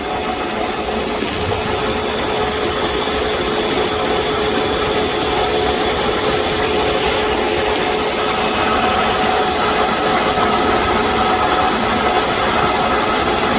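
A car engine idles steadily while its air-conditioning compressor runs without cycling off, a constant close mechanical drone with a faint whine and vibration that holds even for nearly fourteen seconds.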